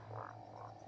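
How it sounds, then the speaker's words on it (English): A cururu frog, a large toad kept as an insect-eating pet, gives a single short croak up close, a low steady drone beneath a brief throaty call with no voices. "It's called the cururu frog here."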